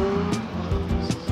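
E-bike brakes squeal while being bedded in on a rails-to-trails path in Washington State, a sustained high-pitched tonal whine with brief pulsing bursts over rolling road noise.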